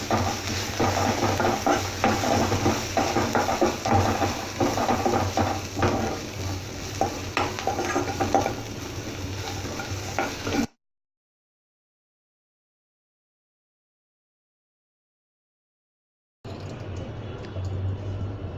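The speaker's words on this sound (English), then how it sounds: "Give it a good mix." Vermicelli with salt being stirred in a pan, a steady scraping and sizzling texture for about ten seconds, then a long silence before the stirring noise returns briefly.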